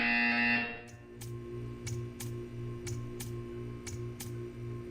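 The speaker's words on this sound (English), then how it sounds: "You will hear a buzzer." A buzzer in the video game Portal 2 sounds as a loud steady tone that cuts off, then a string of regular ticking pulses follows at an even rhythm, with no talk.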